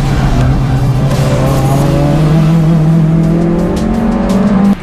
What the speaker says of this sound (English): That might be the Rockney Magro car that was a bit unsettled going down there through into turn 2